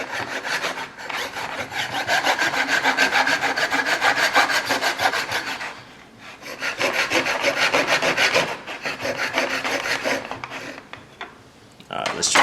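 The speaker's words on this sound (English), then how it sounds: "I might cut down the video so that you don't have to just watch me sawing away." Steady back-and-forth sawing with a hand saw cutting a plastic tab off a Schutt Ion helmet visor, rasping strokes in long bursts with brief pauses between them, close and loud.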